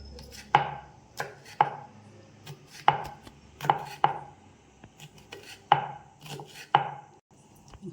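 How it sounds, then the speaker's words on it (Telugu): Three green chillies are finely cut with a knife on a board, giving a close series of sharp, uneven chops with short pauses between them and near silence at the end. "ఇప్పుడు మూడు పచ్చిమిర్చి కట్ చేసుకుందాం సన్నగా"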